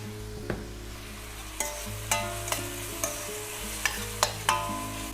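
Onions fry in oil in a pan while a spoon clinks and scrapes against it about eight times at uneven intervals, over a low, steady sizzle, close by and with no speech.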